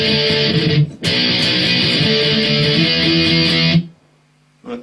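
An electric guitar plays the intro of a song, a loud, dense distorted strummed riff with a brief break near the start, then stopping abruptly, with no talk over it.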